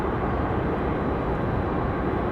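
A Delta Endeavor regional jet departing Raleigh-Durham for JFK, a continuous broadband engine roar, loud and even across the whole stretch with no voices.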